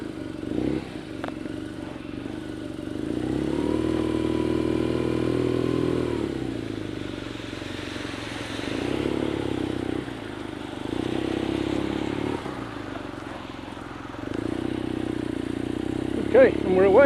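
BMW R nineT Scrambler motorcycle pulling away on a rainy road, the engine note rising and falling through gear changes under wind noise, with a rider talking over it.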